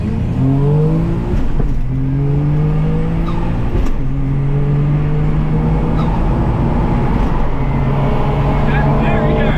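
A turbocharged Subaru EZ30-engined car launches with its clutch slipping, the engine rising and falling in repeated loud revving sweeps that run close and continuous.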